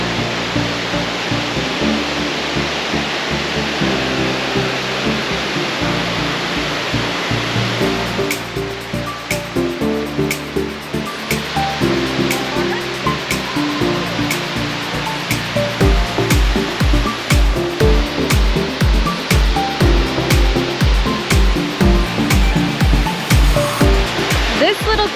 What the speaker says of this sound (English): You got to come out onto this platform to see baby Drake Falls at 27 feet, and Victoria is not going to do that.